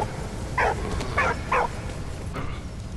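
Dog barking in Valiant Hearts The Great War, four short yapping barks spaced unevenly over a steady background hum, moderately close.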